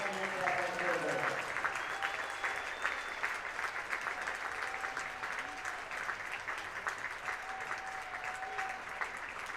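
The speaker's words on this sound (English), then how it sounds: "Let's please give a huge round of applause for the Franklin College women's basketball alumni and their lasting impact on the program." A gym crowd at a Franklin College women's basketball game against Bluffton gives sustained applause to program alumni, a steady roll of clapping with a voice briefly heard at the start.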